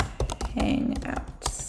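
Rapid clattering keystrokes on a computer keyboard, typing into a Google search, with a brief spoken word over the clicks.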